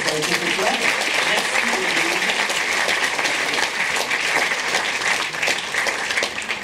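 Audience applauding the jury at the closing and awards ceremony of the Strasbourg fantastic film festival, a dense, steady crowd clapping that fills the whole stretch at close range.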